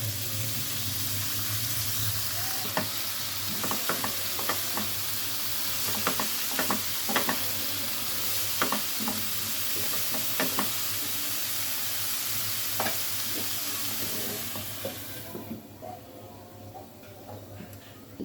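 Gourd peel, chopped potato and green chillies go into a hot pan and fry with a steady sizzle, broken by scattered clicks and scrapes of stirring, before the sound drops off near the end.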